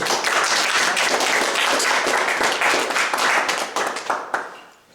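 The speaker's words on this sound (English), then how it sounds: "You got a clap for doing nothing" A lecture audience breaks into dense, steady applause that fills the room, then thins and fades toward the end.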